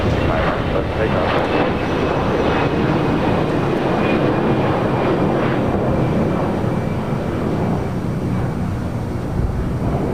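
A jet airliner takes off at Los Angeles International Airport, its broad engine roar loud and steady throughout, with no break in the noise.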